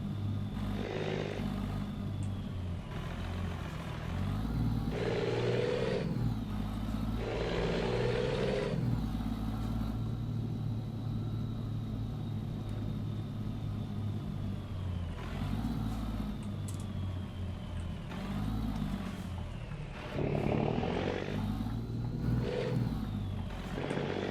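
A deep rumbling Scania V8 truck engine in Euro Truck Simulator 2 drones steadily, revving up and easing off in waves, with no voices over it.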